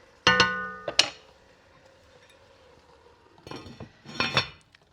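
A metal lid is set back onto a cooking pot of hamburger stew, giving a few sharp clanks and clinks close by, with a second pair of rattling knocks a few seconds later.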